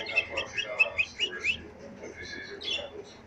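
A pet bird gives a quick run of bright chirps and tweets close by, then a softer, more drawn-out call toward the end, with a quiet background.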